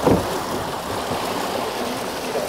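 Water rushing steadily through a laboratory flume, where a hydraulic jump is forming upstream. The broad, even wash of flow holds close and constant throughout, with no speech.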